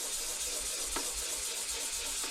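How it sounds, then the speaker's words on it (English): Intermediate sanding of an amber varnish coat on an ES-335-style guitar body: a steady, soft abrasive rubbing hiss close by, with a couple of slightly sharper strokes standing out. "So, intermediate sanding of amber layer."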